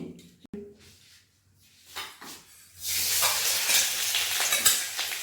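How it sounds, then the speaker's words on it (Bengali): Ginger hits hot refined oil in a pan: after a few quiet seconds with light clatter of utensils, a loud, dense sizzle erupts and holds steady to the end. "আদাটা ফ্রাই করে নেব প্রথমে"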